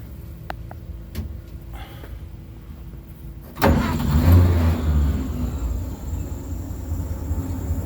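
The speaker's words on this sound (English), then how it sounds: "This thing runs amazingly smooth. It idles nice. It revs up nice." A 1937 International Harvester truck engine cranks and catches after a few quiet clicks, then settles into a loud, smooth idle with rising revs, close by and without speech.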